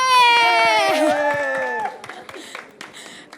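At a press conference, scattered audience applause breaks out just after a tonal voice fades. The claps are sparse and moderately close, tapering off into separate claps.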